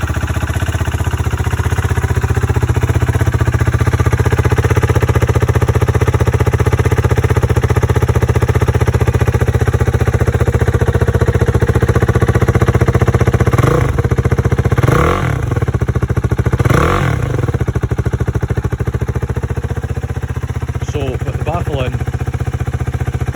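A KTM 390 Duke (Euro 5) motorcycle engine idling loudly and steadily up close after a cold start, with a few brief throttle blips partway through and a voice speaking briefly near the end.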